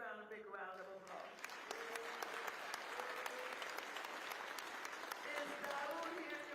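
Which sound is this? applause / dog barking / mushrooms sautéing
applause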